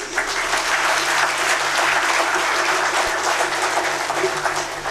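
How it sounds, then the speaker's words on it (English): A convocation audience breaks into dense, sustained applause, a loud continuous wash of many hands clapping at once with no letup. "It is an occasion where you need to give a big round of applause to all of this."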